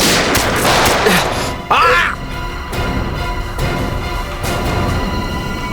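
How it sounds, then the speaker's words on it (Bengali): Gunfire rings out during a shootout in a Bengali CID crime drama, several sharp, loud bursts scattered unevenly, one trailing into a sweeping ricochet-like whine over a busy soundtrack. "সিআইডি অফিসারকে গুলি করে দিলি?"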